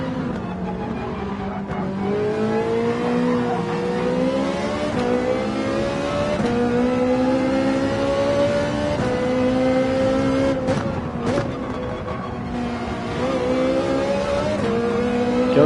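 A race car in Gran Turismo 7 on the Sardegna circuit, its engine droning steadily and shifting pitch through gear changes and corners, loud and continuous with no talking.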